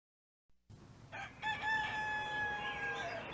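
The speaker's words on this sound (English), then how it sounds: "Rooster." A rooster crows once in the 1992 CD-I game More Dark Fables from Aesop, a drawn-out, clear cock-a-doodle-doo that starts after a brief silence and carries on to the end.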